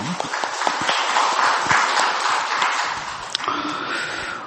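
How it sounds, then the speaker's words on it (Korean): A church congregation claps during a Sunday worship service, producing a broad, steady patter of applause with some sharper individual claps, easing off toward the end. "영광의 박수를 주님께 돌리십시다."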